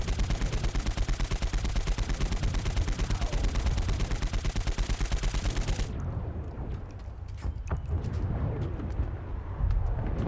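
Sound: gunfire with reloading in the video game Saints Row IV

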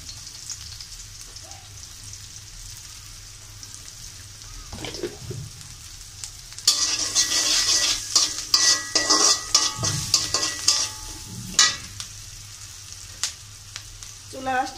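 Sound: frying in a pan on high heat with turmeric and salt

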